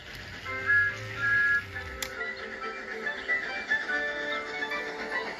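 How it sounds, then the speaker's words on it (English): Steady whistle tones sound over a low rumbling background, with a sharp click partway through and more thin whistles continuing afterward. "Gordon, James, and Henry were waiting to lead off. They whistled impatiently"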